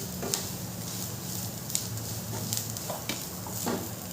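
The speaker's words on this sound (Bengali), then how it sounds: "দিয়ে মশলাটাকে খুব ভালো করে কষিয়ে নেব।" Ground coriander and turmeric are sautéed in a pan with fried onion and garlic for an aloo chop filling, giving a soft, continuous sizzle with occasional light scrapes and taps of the spoon against the pan.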